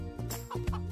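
Cartoon chickens scattered from an overturned poultry truck cluck in short, close, fairly loud bursts, a couple of quick clucks over a steady background.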